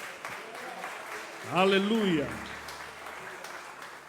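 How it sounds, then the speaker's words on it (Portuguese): Church congregation clapping in praise, a soft continuous patter of many hands with a single voice exclaiming briefly over it midway. "Pode aplaudir a palavra de Deus"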